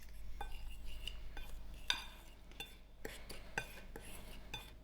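Seasoned ingredients with mixed herbs being stirred in a bowl, faint scraping and light clinks of utensil against the dish in an irregular rhythm, close but quiet.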